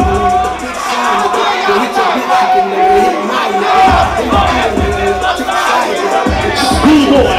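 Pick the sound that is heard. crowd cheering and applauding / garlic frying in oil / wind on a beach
crowd cheering and applauding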